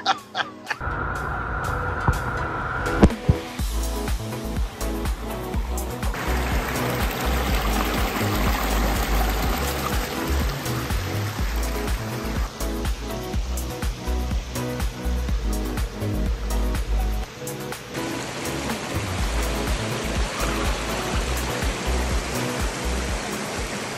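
Water rushes steadily through a recreation pond driven by inline pumps, a loud, continuous, close splashing flow that stays constant throughout.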